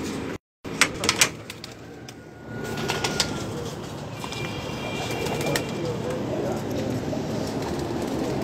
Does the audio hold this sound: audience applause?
no